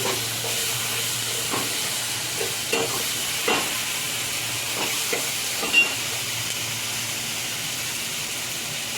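Mixed vegetables frying slowly in a pan for a tamarind fish curry, a soft steady sizzle with occasional scraping stirs and light clinks, moderately close and fairly quiet, with no voices.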